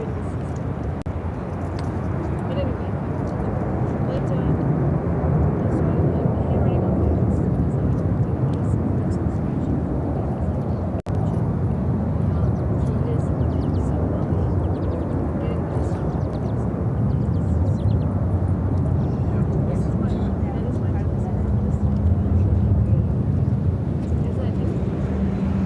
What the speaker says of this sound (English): This is Swiss Flight 7 taking off to Zurich on the A330-300.